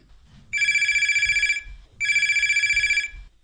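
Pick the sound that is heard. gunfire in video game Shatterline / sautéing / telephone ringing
telephone ringing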